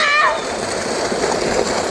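A boy jumps into a swimming pool at a water park, throwing up a short, bright splash followed by churning, sloshing water, with voices nearby.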